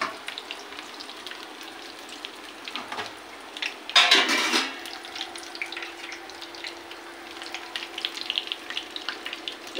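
Brinjal frying in a pan, a steady low sizzle throughout with a louder burst of hissing and stirring around the middle, alongside faint clinks of a utensil against the pan.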